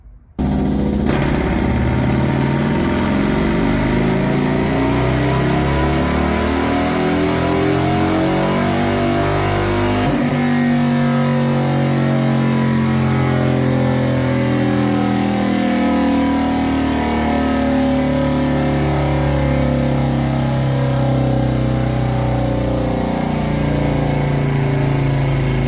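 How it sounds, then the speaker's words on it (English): An S&S 128ci big-bore Harley M8 bagger engine runs on a dyno, revving up in a long, loud sweep, dropping briefly and then holding high, continuous revs, with no talking. "We're going to go ahead and get it on the dyno."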